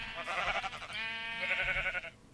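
A sheep bleats in a Minecraft sheep farm with shear dispensers, one drawn-out wavering baa heard close and clear over a faint background.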